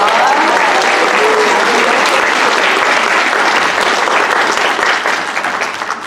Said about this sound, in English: So let's also give them a round of applause.